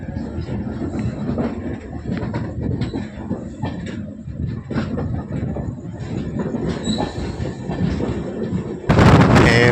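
Antyodaya Express passenger train rolling on rails out of Kozhikode, a steady loud rumble with rhythmic wheel clatter heard from on board, rising to a harsher roar near the end.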